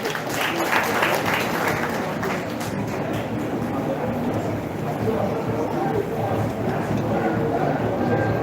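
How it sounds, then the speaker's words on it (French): Applause from a crowd at a Malian political rally backing President Assimi Goïta, a steady dense wash of clapping lasting several seconds with a murmuring crowd and a voice over a loudspeaker underneath. "Vos applaudissements"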